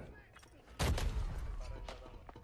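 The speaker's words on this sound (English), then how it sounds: "I'm throwing a grenade." A grenade explodes in the video game Arena Breakout, a sudden loud boom with a deep low-end thump that decays over about a second, followed by faint scattered shots and players talking.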